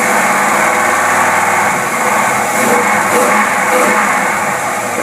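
A Buick engine fitted with dual WCD carburetors runs steadily at a lean idle, a loud, close, constant drone with a faint rhythmic pulse and no talking.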